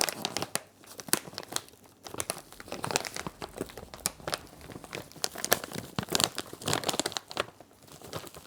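A pull-tab bag of potting soil is torn open by hand, with a long run of close, crinkling plastic rips and rustles that rise and fall over several seconds, with no talking.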